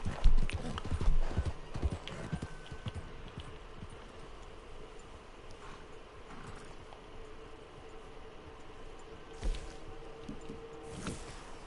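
Horse hooves in the video game Red Dead Redemption 2 Online clip-clop in a quick rhythm, loud at first and then fading to a softer, distant trot, with a few more hoofbeats near the end.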